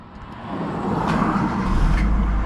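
A vehicle engine rumbles up and settles into a low idle, steady and fairly close, with no talking.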